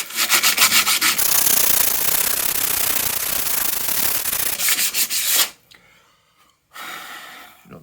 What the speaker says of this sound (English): Right, let's try this sandpaper then.